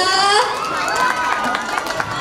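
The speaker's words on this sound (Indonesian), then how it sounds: "Tepuk tangan dulu untuk tari bubuka." A school crowd at a student showcase claps and cheers after a bubuka dance, with lively, overlapping claps and voices, along with shouts and chatter, throughout a short burst.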